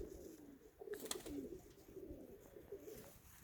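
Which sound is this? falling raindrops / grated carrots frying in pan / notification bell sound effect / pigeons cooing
pigeons cooing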